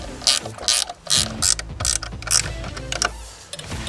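Ratchet wrench clicking in rapid bursts while a bolt is backed out of a ladder rack crossbar on a RAM ProMaster van, loud and close with short pauses between strokes.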